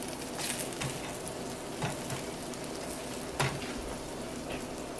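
Corn cakes fry in a hot pan with a steady crackling sizzle and a few sharper pops and scrapes as they are flipped, close and continuous with no voice.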